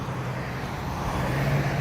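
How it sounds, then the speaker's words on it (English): A Hyundai Ioniq car passes on a suburban road in Henry County, Georgia, at dusk: a steady broadband road hiss with a low engine-tyre hum that builds slightly toward the end, no talking. "a nice car, the Hyundai Ioniq"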